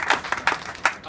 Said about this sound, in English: really want to give him a round of applause as well